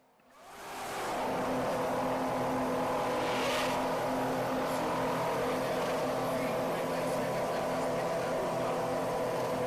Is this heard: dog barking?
no